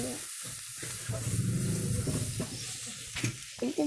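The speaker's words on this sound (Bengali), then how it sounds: "এবার নাড়া করলে, এবার নাড়া করে নিতে হবে।" Beef and potato curry with turmeric and salt is stirred in a pot on a clay stove, a steady loud sizzle broken by scraping stirs, close up throughout.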